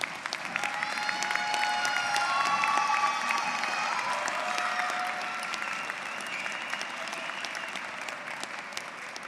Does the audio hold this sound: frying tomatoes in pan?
no